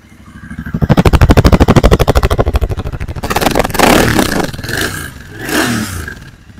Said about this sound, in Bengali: এই যে মাত্র 414 কিলোমিটার চলা বাইক, ঠিক আছে? আর সাউন্ড আপনারা শুনতেই পাচ্ছেন।